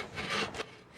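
Athabascan women sawing wood in a contest, a pair of quick rasping saw strokes, the first longer, the second sharp and short, close and loud before fading out.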